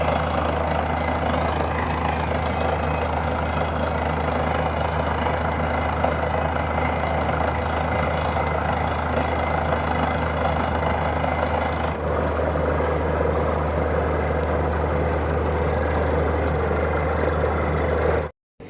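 A car engine idling steadily after being started, with a deep constant low hum and a mid-range drone, close and unchanging for most of the stretch, cutting off abruptly at the end.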